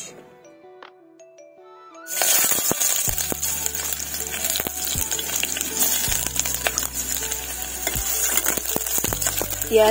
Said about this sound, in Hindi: कढ़ाई पे तेल डाल दिया है। अभी मैं इसमें डालूंगी प्याज